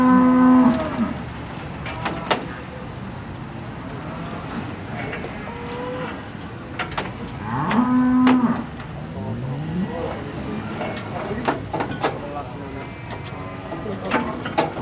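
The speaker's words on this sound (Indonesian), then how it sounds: "Ini adalah proses penurunan sapi dari Pasar Hewan Muntilan, Jawa Tengah." Large cattle being unloaded at the Muntilan livestock market in Central Java, with repeated loud, drawn-out moos over a steady rumble of crowd and vehicle noise.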